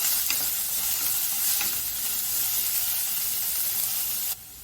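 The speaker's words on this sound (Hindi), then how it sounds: "इसमें हम डाल देंगे बारीक कटी गाजर 1/4 कप, बारीक कटी पत्ता गोभी 1/4 कप। 2 मिनट हम इसे अच्छे से फ्राई कर लेंगे।" Chopped carrot and cabbage with ginger and garlic stir-frying in a pan for soup, a steady loud sizzle with faint scraping stirs, close up and without speech, ending abruptly.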